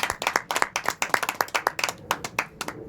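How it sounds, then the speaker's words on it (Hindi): A small congregation at a Sunday church gathering claps hands in welcome, a brisk run of distinct, fairly close claps in quick uneven rhythm, moderately quiet and with no talk over it. "प्रभु हम ताली बजाकर उनका स्वागत करें"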